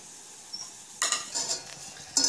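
Maggi masala noodles are stirred in a pan, with scraping and clinking utensil strokes against the metal in irregular bursts over a faint background hiss.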